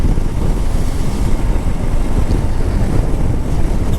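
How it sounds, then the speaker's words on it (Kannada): Heavy wind buffeting a microphone on a single-lane highway during a motorbike ride, a loud continuous roar with steady low-end rumble and no pauses, no talking. "ಹೆವಿ ವಿಂಡ್ ಬ್ಲಾಸ್ಟ್ ಬೇರೆ ಹೊಡಿತಾ ಇದೆ"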